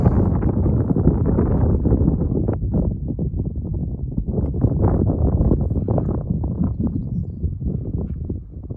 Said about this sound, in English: A little stormy out here too. Windy, but no rain